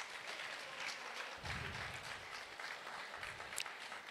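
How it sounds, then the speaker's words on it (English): Audience applause at an economic symposium in Sunyani, a steady broad patter of clapping through the whole stretch that swells briefly midway, heard fairly distant in a large room. "Another round of applause for him."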